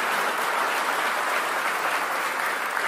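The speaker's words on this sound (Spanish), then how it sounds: "dale un fuerte aplauso al Señor" Church congregation gives a loud, continuous round of applause, a dense wash of many hands clapping throughout with no voices over it.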